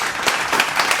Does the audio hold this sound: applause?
yes